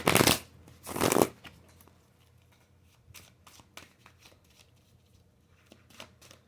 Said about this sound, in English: If I can get my cards in my hands to shuffle.